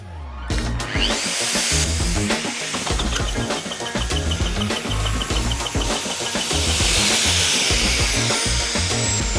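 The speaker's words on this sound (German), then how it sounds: "Die TKF 1500 schneidet funkenfrei, das fast ohne Kraftaufwand" A TKF 1500 chamfering machine cuts a 15 mm bevel along a metal plate edge for weld preparation, a loud, continuous grinding and whining cut with dense rapid chatter lasting throughout.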